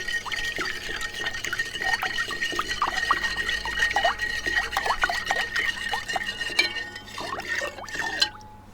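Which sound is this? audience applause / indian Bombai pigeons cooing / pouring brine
pouring brine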